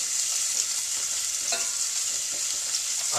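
Onions going into a hot pan with carrots and celery to follow, giving a steady bright sizzle with a couple of stirring scrapes, close and continuous.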